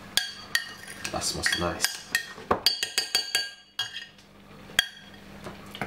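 Spoon stirring honey into a sauce in a bowl, a run of bright clinks and taps against the dish in an uneven rhythm, close up, with a brief spoken comment partway through.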